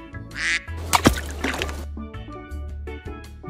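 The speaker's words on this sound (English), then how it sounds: "Duck." A duck quacks repeatedly in a few loud, nasal bursts at close range, with a brief splashy noise near the start and no voices.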